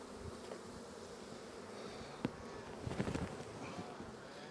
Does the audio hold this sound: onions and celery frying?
no